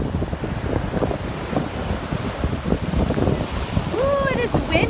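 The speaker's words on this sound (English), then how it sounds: "Ooh, it is windy out here. Windy and wavy." Strong wind buffets the microphone out on open water after a storm, with rough waves and a distant bird call at the end.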